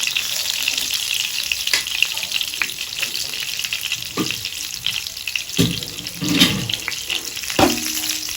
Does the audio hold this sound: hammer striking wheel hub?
no